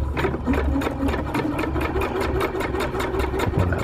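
A sewing machine stitches the ridgeline seam of a lightweight backpacking tarp, its needle clattering in a fast, steady rhythm of close, even strokes with a low motor hum underneath.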